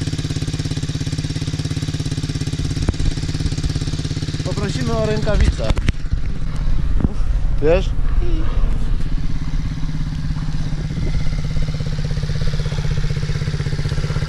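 Idling MRF pit bike motorcycle engine running steadily as a low, even drone close by throughout, with people talking over it.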